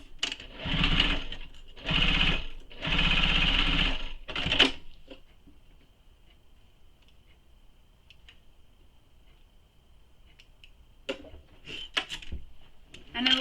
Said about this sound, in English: then you can sew down the sides